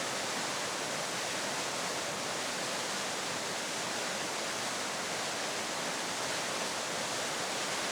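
A waterfall with a strong current where salmon leap, heard as a dense, unbroken hiss of rushing water, loud and even throughout with no voices.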